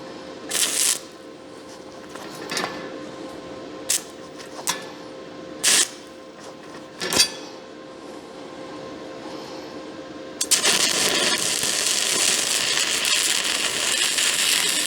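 Stick welding with a Harbor Freight Titanium Stick 225 welder lays down hardfacing: short bursts of sharp crackling start and stop several times, then a continuous loud crackle sets in for the last few seconds.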